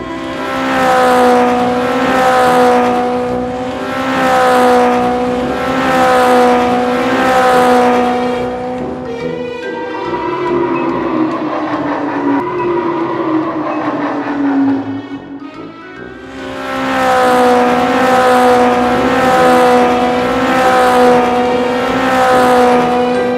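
Toy race cars zoom in repeated whooshing passes, loud and close, with a rhythmic rise-and-fall pattern, broken midway by a brief section of clattering, scraping rolling noise before the zooming returns.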